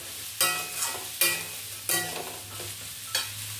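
Lightly steamed vegetables fry in a pan for dalia khichuri, a constant sizzle punctuated by four or five rhythmic scraping stirs of a spatula, close and fairly loud.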